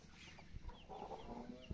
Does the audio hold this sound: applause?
no